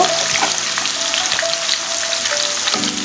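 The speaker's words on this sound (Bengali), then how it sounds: "এখন এখানে প্রায় 1 কাপের মতন পেঁয়াজ কুচি দিয়ে দিলাম এবং পেঁয়াজ কুচিটা একদম লাল হওয়া পর্যন্ত আমি ভেজে নেব।" Chopped onions, about a cup, frying in hot oil for a beef korma, giving a steady dense sizzle with faint stirring and small pops throughout.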